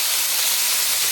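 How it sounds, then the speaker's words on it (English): Minced beef dropped back into hot oil sizzles with a loud, dense, steady hiss, close and continuous for about a second with no talk. "I'm gonna add the minced beef right back into the oil."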